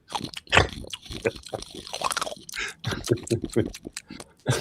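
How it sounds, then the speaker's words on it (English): Added eating sound effects resembling a herd of pigs snacking: choppy crunching, chomping and snorting bursts in an uneven rhythm, mixed with voices over a few seconds. "I enjoyed adding the sound effects when he's eating"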